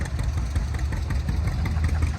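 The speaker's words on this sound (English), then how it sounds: "So they just fired up the John Deere over there." A John Deere tractor engine runs at a tractor festival parade in Spring Valley, Ohio, with a close, loud, steady low chugging idle and no voices.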